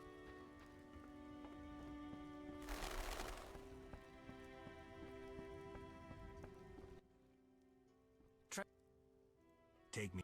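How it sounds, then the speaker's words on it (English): Steady rain in the video game The Witcher patters for several seconds, with a brief louder burst of splashing near the start, then drops away to quiet with a couple of sharp clicks. "Rain."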